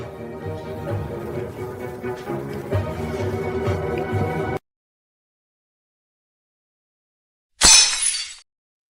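A collectible drinking glass shatters in one loud, sharp crash with a brief tinkling tail, heard alone after several seconds of busy background music and a stretch of silence.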